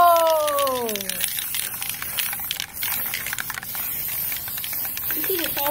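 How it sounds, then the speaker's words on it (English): Spray paint can hissing in long broadband bursts while tagging a bike with graffiti, close and fairly loud, with a voice speaking briefly at the start and end. "I nearly sprayed myself with the can"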